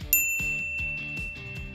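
A notification bell dings with a bright, ringing tone, and a soft, repeated rhythmic tapping sounds beneath it.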